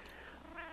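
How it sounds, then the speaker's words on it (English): A cat vocalizes faintly in the background of a 2005 radio interview, a brief, low, drawn-out cry heard alone over steady room noise. "That's my cat wants to be part of the interview."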